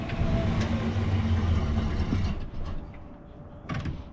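An old car's engine idling as it warms up, a rough low rumble that is steady at first, then eases and drops away midway, followed by a few short knocks and clatters.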